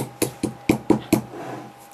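Five sharp knocks of a hammer crushing star anise for a homemade incense blend, evenly spaced and close, fading to a faint scrape.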